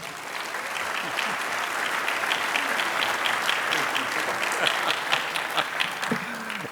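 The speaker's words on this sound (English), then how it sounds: "Let's give a big round of applause to Wayne Cooper." An award dinner audience gives a big, sustained round of applause, dense clapping that holds steady and swells slightly near the end, with faint crowd voices underneath.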